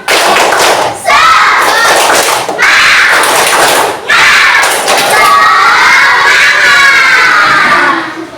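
Classroom children doing a rhythmic 'tepuk semangat' spirit clap during a coding and AI lesson, loud shouting voices chanting in bursts with clapping and thumps, close and energetic.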